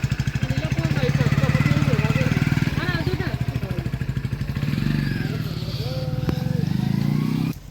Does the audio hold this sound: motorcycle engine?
yes